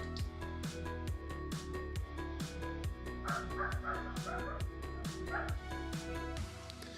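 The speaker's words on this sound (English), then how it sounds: "Yeah, man, that dog sucks." A neighbour's dog left alone by its owners barks and yips repeatedly in steady bursts over music-like tonal background, fairly loud and continuous throughout.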